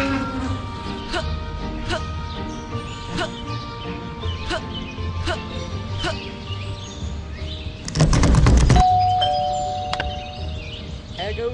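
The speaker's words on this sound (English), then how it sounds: "There goes that stupid bell again." A doorbell rings in Scary Teacher 3D, a loud burst of ringing cutting in partway through, with a sustained chime lingering after, over earlier light chirping ambience.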